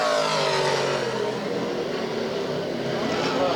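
A loud race car engine on a speedway oval with a damaged muffler roars continuously, its harsh steady drone dominating throughout without pause.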